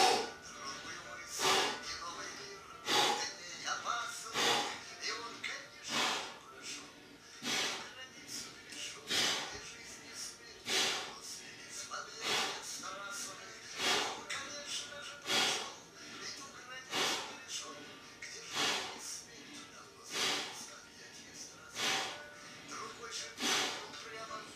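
Heavy, forceful breaths during a plank exercise puff and hiss out in a steady rhythm, roughly one every second or two, close to the microphone and continuing throughout.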